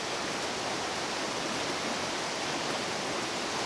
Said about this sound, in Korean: 폭포 근처로 가까이 다가가자 귀청을 울리는 물소리가 어마어마하다.